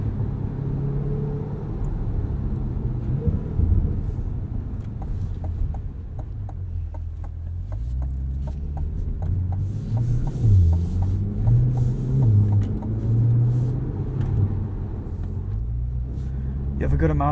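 A 2020 Chevrolet Corvette Stingray Convertible drives along with a deep, continuous engine rumble from inside the cabin, rising and falling as it shifts, with someone talking over it at times.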